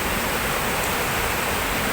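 River water rushes through a flood control channel, a loud, even roar of flowing water that fills the whole moment without pause or other sounds.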